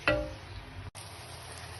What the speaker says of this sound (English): So right as it's beginning to sizzle, you don't want it to burn